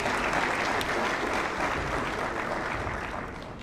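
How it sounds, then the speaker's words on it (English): Audience at a speech event in Zambia applauds steadily, a dense continuous wash of clapping that holds loud throughout and fades slightly at the end. "Give him another round of applause, please."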